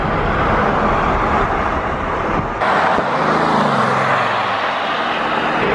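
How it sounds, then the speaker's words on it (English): A Bugatti's four-turbo engine roars steadily from inside the car, a loud dense rush of engine and road noise that dips briefly then carries on with a deeper drone. "What is that, like a turbo noise?"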